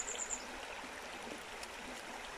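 Wheeldale Beck, a small stream in a quiet valley, flows with a steady, even rushing and trickling wash, close and continuous, with a faint birdsong note at the start.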